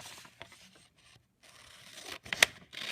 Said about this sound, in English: But I am going to quickly cut that out.